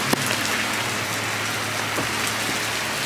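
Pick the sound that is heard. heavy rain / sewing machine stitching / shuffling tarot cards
heavy rain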